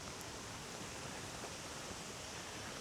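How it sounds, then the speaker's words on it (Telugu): Water falls and trickles steadily in a Japanese garden at Gifu Castle, a dense even rush with no breaks, alone and without voices. "ఆ నీళ్ళు పడుతూ ఆ ఆకుల మీద ఆ సౌండ్"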